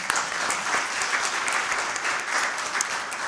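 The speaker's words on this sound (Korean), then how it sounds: "박수 한번 여러분 쳐드리세요." Steady, dense applause from an audience at a National Assembly policy forum on the Gyeokryeolbiyeoldo islands, a continuous wash of many hands clapping at fairly close range with no voices over it.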